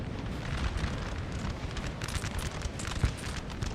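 Artillery fire across a Napoleonic Total War battlefield, a dense rumbling wash of distant cannon booms and musket crackle rolling continuously, with one sharper nearer blast standing out near the end.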